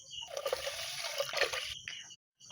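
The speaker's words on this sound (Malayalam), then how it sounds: "അപ്പോൾ തന്നെ നമ്മൾ 3 ഗ്ലാസ് വെള്ളം വെക്കണം." Water poured into a pot of rice for cumin rice: a quiet, continuous splashing trickle lasting about two seconds before cutting off, with a brief resumption at the very end.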